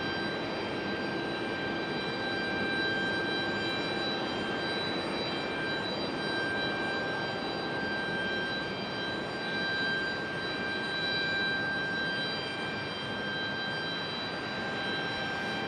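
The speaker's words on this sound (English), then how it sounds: "Got that other A319 over here finishing up its pushback." Airbus A319 airliner during pushback at Raleigh-Durham International Airport, a loud steady jet engine roar with a high whining tone, continuous and fairly close, with no talking.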